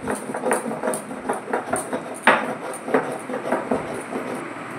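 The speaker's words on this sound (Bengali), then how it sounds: "এখানে আমি একটু গরম মশলা বেটে নিচ্ছি" Garam masala spices being ground by hand on a traditional grinding stone, a steady series of close, dry scraping and knocking strokes in a repeating rhythm with no talk.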